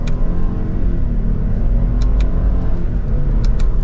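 A heavy 2023 Lexus LX600 accelerating hard in Sport S Plus mode, heard from inside as a loud, steady low engine rumble and road roar, with a couple of faint high ticks near the end.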